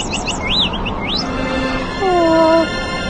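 Small birds chirp nearby, a few quick rising and falling tweets followed by a longer clear whistled call, loud and alone with no talking.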